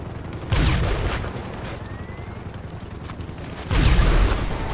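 Two heavy booming explosions in GTA V as planes are shot down with an alien gun, each a loud low-end blast with a rumbling tail, spaced a few seconds apart with faint whooshes and debris sounds between.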